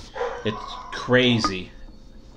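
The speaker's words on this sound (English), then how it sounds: "I apologize for the dogs." A Labrador dog barks and whines excitedly indoors, close and fairly loud, its short yelps overlapping with a person talking.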